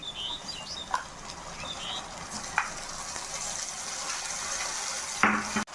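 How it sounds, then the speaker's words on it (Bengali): Onions frying in a pan for malai matar paneer, with garlic and onion paste added, give a steady close sizzle with a few sharp clicks and spatters, without speech. "পেঁয়াজটা আমার ভাজা হয়ে গেছে এবারে রসুন আর পেঁয়াজ বাটাটা দেবো"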